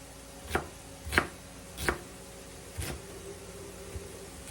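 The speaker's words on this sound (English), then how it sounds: "so just chop your onion up." Half an onion being chopped with a knife on a cutting board in a home kitchen: four distinct, fairly quiet thuds spaced unevenly about a second apart, then a faint fifth tap, with low room hum underneath.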